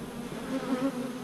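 Honeybees buzz at an open hive colony during an inspection, a close, steady droning hum with slight wavering pitch and no talking.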